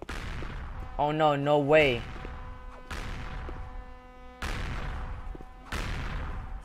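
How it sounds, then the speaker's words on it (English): Repeated booming blasts from grenades in the Roblox game Mad City, four sharp hits spaced a second or two apart, each decaying into a rumbling tail, with a voice exclaiming loudly between them. "Someone is throwing a grenade at me."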